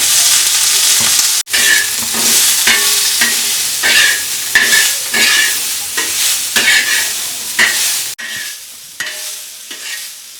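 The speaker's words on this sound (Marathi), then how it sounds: "कांदा मस्त पैकी भाजून घेतलाय" Onion roasts in oil in a pan while being stirred, with a loud close sizzle and repeated scraping strokes against the pan in a steady rhythm.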